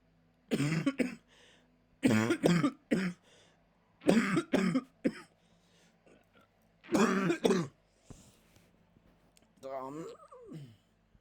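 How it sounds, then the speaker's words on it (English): A person coughs and clears their throat repeatedly in short bursts with pauses between, close up, ending in a strained, wheezy breath. "Don't say I'm getting a cough again."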